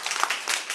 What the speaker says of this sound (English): Please give her a quick round of applause.